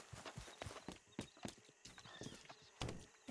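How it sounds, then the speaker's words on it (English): A horse arrives at a trot in the video game Red Dead Redemption 2, hooves clip-clopping in a quick uneven rhythm, close and moderately loud, with a brief snort among the steps. "Let me call my horse over, so it just be waiting for us outside."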